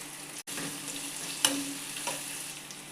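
Onions and tomato frying in a pan, a continuous moderate sizzle with a couple of brief stirring scrapes.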